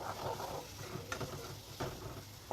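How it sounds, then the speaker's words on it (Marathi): Chopped onions fry and get stirred in a pan for a parwal curry, a steady sizzle broken by a few scraping spatula strokes, close up with no talking. "कांदे टाकल्यानंतर या कांद्यांना सुद्धा छान असं परतून घ्यायचं आहे आणि या कांद्यांना शिजू द्यायचं आहे म्हणजे फ्राय होऊ द्यायचं आहे"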